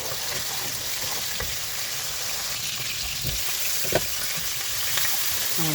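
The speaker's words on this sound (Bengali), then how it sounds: "একটু পানি অ্যাড করে মশলাগুলো সুন্দর করে কষে নেব।" Spice paste sizzles steadily in a hot pan while being stirred for a mustard and sea fish dish, with a few soft scraping knocks of the spoon against the pan; no one speaks.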